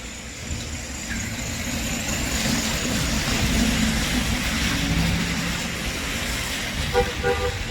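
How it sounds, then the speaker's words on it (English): A bus pulling in on a city street: a steady, fairly loud rumble of engine and traffic fills the whole stretch, with a few short horn-like tones near the end. "so the bus coming. I'll take the express bus."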